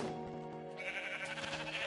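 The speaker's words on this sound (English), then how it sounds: "That sheep is stuck. But I want it." Sheep bleating in the video game Minecraft, a steady wavering bleat that runs through most of the short stretch at moderate level, with no talk over it.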